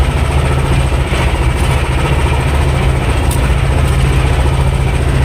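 A T-25 tractor discing a field ahead of plowing, its engine drumming in a steady, loud, low rumble with heavy vibration, continuous and close with no talk over it.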